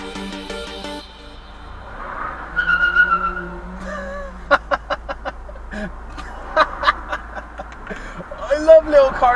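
Small racing cars whine and buzz, with sharp tyre squeals and a scatter of brief, punchy revs that come in clusters over a low background rumble.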